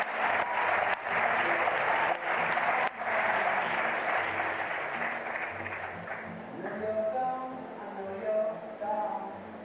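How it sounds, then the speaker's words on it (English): An audience at the Distinguished Young Women of Menomonee Falls 2018 program gives a full round of applause, steady and loud for several seconds, then fading as music and singing rise underneath. "let's have one final round of applause for our 2018 Distinguished Young Women of Menominee Falls"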